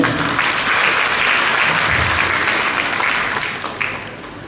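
Loud, dense audience applause at a church regional assembly panel discussion in East Nusa Tenggara, steady for several seconds before tapering slightly with a few scattered claps at the end.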